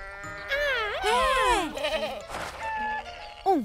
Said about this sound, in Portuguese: Um bode?